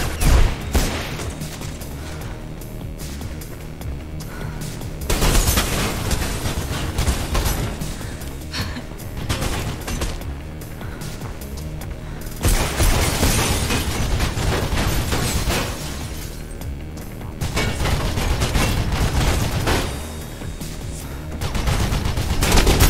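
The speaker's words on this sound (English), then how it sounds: "they have a goddamn machine gun" Sustained bursts of machine gun fire in the first-person parkour game Mirror's Edge, loud and close, coming in long rattling volleys separated by brief lulls, mixed with game sounds and no speech.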